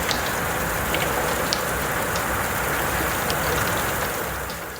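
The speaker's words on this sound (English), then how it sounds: "We have had some serious rain this weekend. Do you want to hear some?" Heavy rain pours down in a dense, steady hiss that stays loud and unbroken throughout, with faint scattered drips standing out on top.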